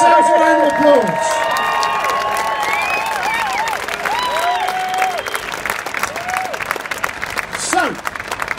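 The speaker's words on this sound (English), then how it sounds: "Give yourselves a round of applause." A large outdoor crowd at a People's Vote protest march in London claps and cheers, with whoops and whistles over continuous applause and shouting voices throughout.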